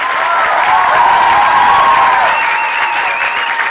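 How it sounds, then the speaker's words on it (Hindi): Audience applause at a film launch press event, a loud dense sustained clapping from a large crowd indoors, steady for several seconds with faint cheering. "ताली इतनी होनी चाहिए कि दीवारें फट जाए."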